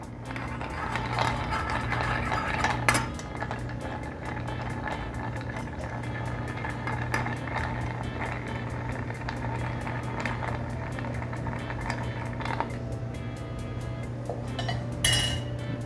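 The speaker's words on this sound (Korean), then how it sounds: "큐브 아이스를 넣어줍니다. 차갑게 칠링해 주시고요." Ice cubes clink and rattle against a cocktail glass as it is chilled, a busy, continuous jangle up close with a steady low hum in the background.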